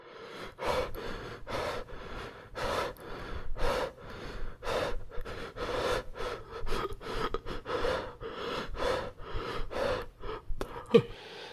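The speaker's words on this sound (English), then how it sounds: "Sorry for breathing" Heavy, regular breathing close to the microphone, about twenty loud breaths in and out in steady rhythm, with nothing else heard.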